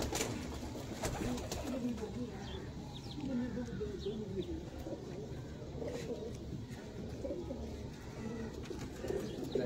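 Rooftop pigeons coo in low repeated rolling calls, close and steady across the whole stretch, with faint background chirps and a voice talking at times.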